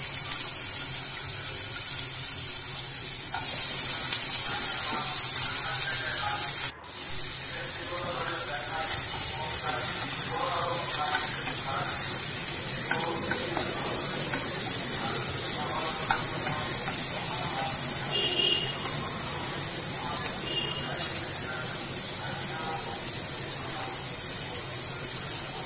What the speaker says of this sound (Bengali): এর মধ্যে ডাঁটা আর আলুটা খুব ভালো মতো ভেজে নেব